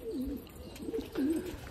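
Pigeons cooing softly nearby, two or three low, rolling coos in a slow rhythm over faint background noise.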